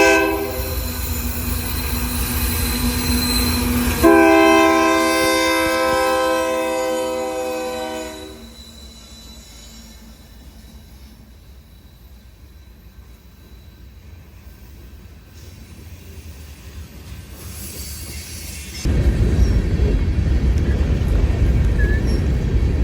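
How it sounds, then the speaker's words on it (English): A Union Pacific freight train of coal and mixed cars rumbles past in Wisconsin with a loud, sustained horn blast, then fades to a distant roll before a rear pusher locomotive brings another loud surge of rail noise. "We see UP 7116 hauling a PSR train with both coal and mixed freight cars."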